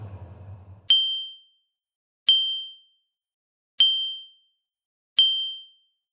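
A tiny old bronze bell, dull and greenish, struck four times at even intervals, each bright clear ding ringing out and fading into silence, close and loud after a short low rumble.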